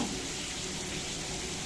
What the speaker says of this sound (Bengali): এদিকে মাছ ভাজি চলছে